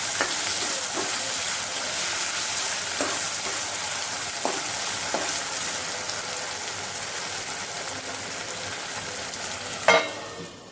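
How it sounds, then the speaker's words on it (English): Sabudana khichadi frying in a pan over a lowered gas flame gives a steady, soft sizzle throughout, with a few light scrapes and taps scattered along and a brief louder clatter near the end. "And then fry it. Lower the gas flame so that it will become nice."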